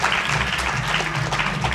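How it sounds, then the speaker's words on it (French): Audience applause after a talk on King Tubby at a dub festival conference, dense continuous clapping throughout, even and fairly loud. "Je vous demanderai un petit peu d'applaudissements"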